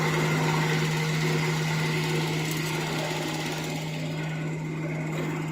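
Pump on a ZYD-100 Chinese oil centrifuging machine running at close range, a loud, unbroken mechanical hum with a steady droning tone throughout.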